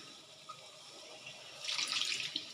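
Rinse water from a bowl that held spices is poured into a cooking dish, a soft splashing pour that swells toward the end over quiet background.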